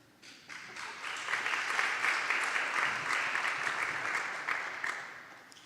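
Audience at a poetry and music event applauding a performer, clapping that swells in after a quiet start, holds strong and fairly close, then begins to thin out toward the end.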